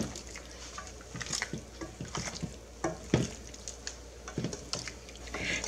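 A spoon stirs a homemade stew of potatoes and meat with green onion and parsley in a pot, giving soft, irregular scraping and wet clatters with faint sizzling, quiet and close.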